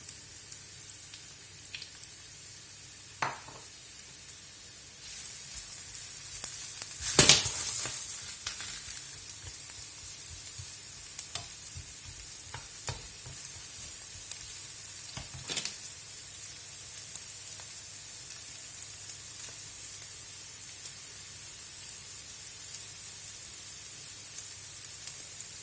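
Chopped onion frying in a pan for a lentil dish gives a soft, continuous sizzle, broken by a few louder stirring clatters and scrapes.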